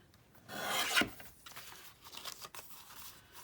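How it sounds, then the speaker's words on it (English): Paper masterboard being trimmed, heard as a short rasping cut that swells and ends with a sharp snip, followed by lighter scraping and rubbing, quiet and close. "gonna trim a little bit of that down and trim a little bit of that down."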